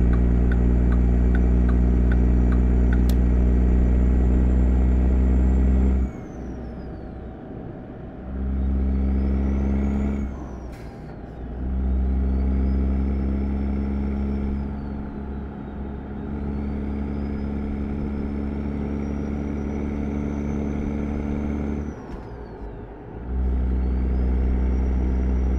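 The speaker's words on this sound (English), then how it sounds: "It's as if I'm taking a test drive of a truck for the first time" A Mack Black Anthem truck driving in American Truck Simulator, a loud steady diesel drone that dips and climbs through several gear changes, with rising and falling whine across the run.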